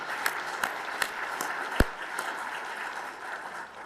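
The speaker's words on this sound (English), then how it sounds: "Let's give them a round of applause." At an awards breakfast, a sparse scattering of hands claps for a few seconds, with individual claps standing out at a moderate distance against a soft room murmur.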